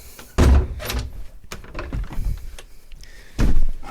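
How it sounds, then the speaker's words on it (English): A boat's small cabin door thuds shut nearby, a heavy wooden knock, with softer bumps and rattles before a second solid thunk near the end. "It has a door as well, for privacy."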